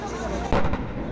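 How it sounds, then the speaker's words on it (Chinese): A 155 mm howitzer fires during Taiwan's Tianlei anti-landing military drill in Pingtung, giving a single sharp, distant boom midway through while a narrator keeps talking. "海面上也有榴弹炮进行发射，都是要拍敌人。"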